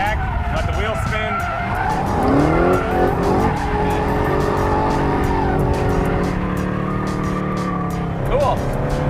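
A Dodge Challenger drifts under hard throttle, its engine roaring loud and close while the tires squeal in long rising and falling wails, with voices talking over it.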